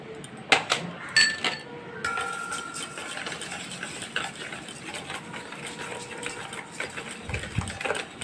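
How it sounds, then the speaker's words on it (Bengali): Curd and sugar being whisked together by hand in a bowl for lassi, a close, steady rhythmic tapping and scraping with a few sharper clinks near the start, no talking. "ভালো করে হুইস্ক দিয়ে মিশিয়ে নিচ্ছি।"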